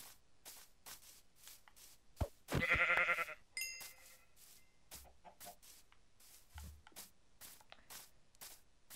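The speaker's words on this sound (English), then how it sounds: "Sheep." Minecraft game audio with bleating farm animals and a loud burst of clucking chicken calls among repeated short clicking or stepping sounds; no talking.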